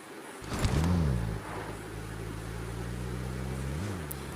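Car in the BGMI video game revving up and driving off, an engine drone that swells then settles into a steady hum with a brief rise near the end, no talk.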